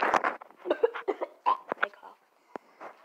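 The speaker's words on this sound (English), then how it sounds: "I cough." A string of short, sharp coughs and throat sounds from a player during a Roblox game, bursting irregularly over a few seconds with a final isolated cough near the end.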